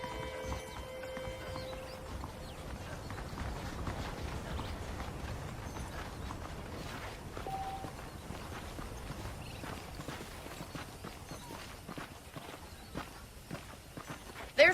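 Horse hooves clip-clop in a steady walking rhythm in the video game Red Dead Redemption, moderately close, continuing throughout with faint mechanical creaks beneath.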